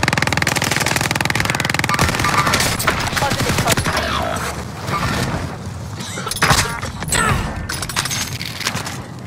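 Rapid bursts of automatic gunfire from a first-person shooter video game during a tournament match, dense and continuous over nine seconds with overlapping shots and impacts, loud and close, with faint voices underneath.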